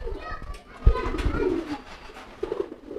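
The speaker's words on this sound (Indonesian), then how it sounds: "Ini ada merpati pos saya nih." Soft, low pigeon coos come in a few short bursts close by, with some background movement and faint voices.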